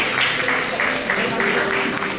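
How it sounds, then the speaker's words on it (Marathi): Audience applause for teachers being honoured at a Maharashtra newspaper association's award ceremony: a steady, dense wash of clapping filling the room for a couple of seconds, with a voice faintly underneath. "म्हणजे टाळ्या कुठे जरा टाळ्या वाजू देत"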